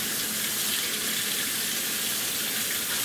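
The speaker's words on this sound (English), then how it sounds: "put hot water in this" Hot water runs steadily from a kitchen tap into a container, a continuous close splashing stream with no talk, heard while preparing a keto chicken curry.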